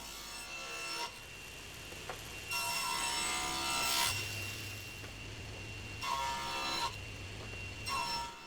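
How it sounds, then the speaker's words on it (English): Table saw cutting spline grooves in scrap wood for a chair build, with several bursts of whining, rasping cutting separated by quieter stretches of the motor running, fairly close and moderately loud. "I'm making one cut, then nudging the fence over and making a second cut"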